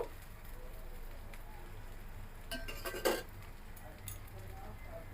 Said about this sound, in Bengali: এবার আমি উপকরণগুলো মিশিয়ে দিব